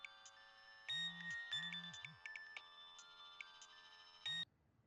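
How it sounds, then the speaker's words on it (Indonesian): A telephone rings with a bright electronic ringtone that repeats in short bursts, loud and close in a quiet room, ending abruptly. "Teleponnya berdering."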